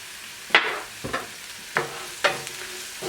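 Onions and garlic with Italian seasonings cooked in a pan, stirred with a few distinct spoon scrapes spaced about half a second apart over a soft sizzle, close and fairly loud.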